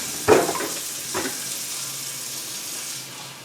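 Cold tap water splashes into a container in short gushing bursts, followed by a soft fading hiss, close and fairly quiet.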